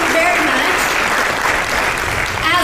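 Audience applause at a talk on end-of-life matters, a dense, steady wash of clapping from a sizeable crowd filling the whole stretch at a constant level, with a little voice showing faintly at the edges.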